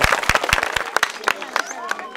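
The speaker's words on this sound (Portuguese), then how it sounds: "uma salva de palmas" A small group gives a round of applause during a talk about a husband's denial and hospital testing, with sparse, uneven claps close by and murmuring voices underneath.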